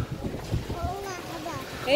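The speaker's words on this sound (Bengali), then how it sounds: "এইদিকে একটু ঝোড়ো হাওয়া দিচ্ছে" Strong gusty wind buffets the microphone on a Ganges riverbank, a low rumbling roar running steadily under people talking nearby.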